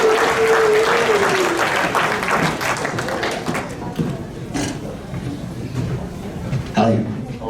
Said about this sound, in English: So round of applause for Flan for doing that.